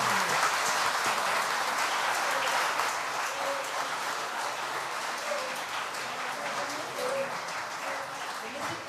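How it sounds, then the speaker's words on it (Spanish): Audience applause at a literary gathering during the Festival de la Palabra in Nicaragua, a steady broadband wash of clapping that holds evenly for about nine seconds with a faint murmur of voices beneath. "Vamos a aplaudir."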